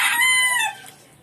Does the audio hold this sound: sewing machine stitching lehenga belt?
no